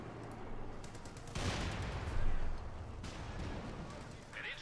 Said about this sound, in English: Panther moving in there, taking hits here from the 6-pounder gun.